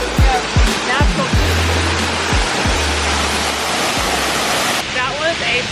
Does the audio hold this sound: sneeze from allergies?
no